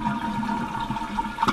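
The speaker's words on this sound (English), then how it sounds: "So Let's just flush." A Mansfield toilet flushes after its fill and flush valves are replaced, a brief rushing swirl of water at moderate loudness with a faint steady hum under it.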